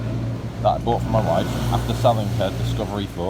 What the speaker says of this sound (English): a bus just went past